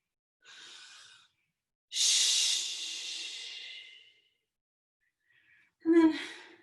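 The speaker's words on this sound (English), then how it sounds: "So we're going to inhale. And then inhale again." Slow, deep breaths during a breathing exercise, close to the microphone: a short breath, then a long airy inhale, and a final sharp breath, each separated by silence.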